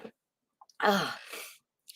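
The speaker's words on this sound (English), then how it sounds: "sorry to keep sneezing like that" A single explosive sneeze from a person fighting a cold, loud and close, preceded by a brief sharp intake and followed by a trailing exhale.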